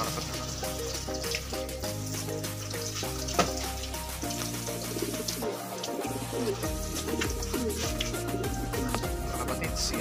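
Pigeons coo in low, repeated throaty calls close by, over a constant background hiss, with no talking.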